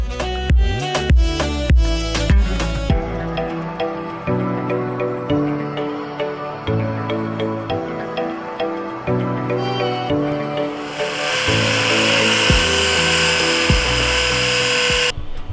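A tool cuts a Ninja 500R motorcycle license bracket with a continuous, loud, whining, pitch-shifting tone, which turns into a harsher, noisier grind toward the end, with no talking.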